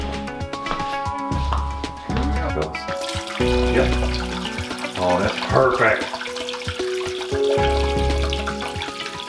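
Water trickles steadily into a self-filling dog water bowl, running slowly without splashing, with a person speaking briefly over the flow.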